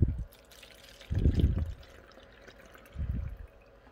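Half a cup of distilled water poured into a cup while mixing homemade acrylic airbrush thinner, heard as three short close gurgling splashes separated by quiet pauses.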